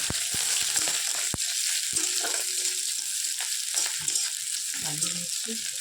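Chopped onion and green chili fry in a pan with a loud, steady sizzle and crackle, broken by sharp clacks and scrapes of a spatula, heard up close with no talking.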